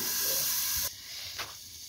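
A covered pot of drumstick vegetable pods steams with a loud, steady hiss for almost a second, then the sound drops to a softer, quieter steam hiss with a brief puff partway through.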